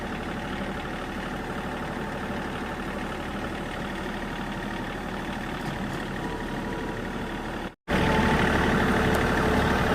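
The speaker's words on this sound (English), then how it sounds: "First tractor ride." A tractor engine runs steadily in the open on a farm, a loud, even mechanical rumble that holds for the whole stretch with one sudden brief dropout near the end before resuming.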